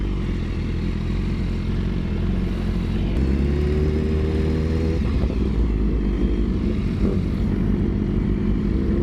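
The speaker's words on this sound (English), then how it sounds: "we're gonna run the S1000RR again, and we're running a ZX10 this time around to see how we do." A BMW S1000RR and a Kawasaki ZX10 roll racing, engines roaring loudly and continuously up close, with pitch climbing through the gears and shifts partway through.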